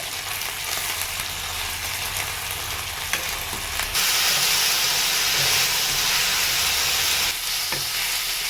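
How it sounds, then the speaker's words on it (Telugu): Tomatoes cut in half and curry leaves fry in a pan for a Telugu dondakaya tomato pachadi, giving a steady close sizzle that turns louder and brighter halfway through as the pan is stirred, with no talking. "అలాగే ఒక నాలుగు టమాటాలని మధ్యలో కట్ చేసి పెట్టుకొని వేస్తున్నామండి అలాగే కొంచెం కరివేపాకు కూడా ఇప్పుడు వీటినే బాగా వేపుకోవాలండి"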